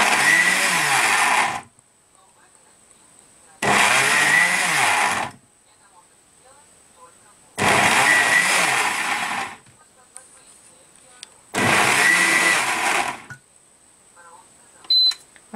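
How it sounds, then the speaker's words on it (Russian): A blender crushing ice roars in four loud bursts of about two seconds each, separated by near-silent pauses, with a faint beep near the end. "Мы научились пользоваться блендером."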